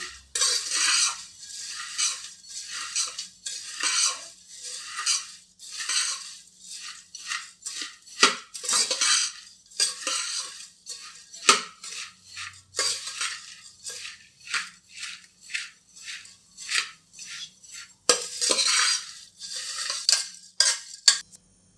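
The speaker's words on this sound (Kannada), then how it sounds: "ಎಲ್ಲ ಒಗ್ಗರಣೆ ಹಾಕಿ ಮಿಕ್ಸ್ ಮಾಡ್ಕೊತಿದ್ದೀನಿ" Puffed rice being tossed with garlic and peanut tempering in a pan, heard as a long series of close, rhythmic scraping and rustling strokes with brief pauses between them.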